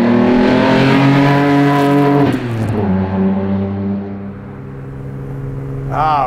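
A loud engine in a custom 1974 Datsun Fairlady 260Z with a stroked motor revs hard and climbs in pitch, drops as it shifts gear, then pulls again and roars up once more, close by.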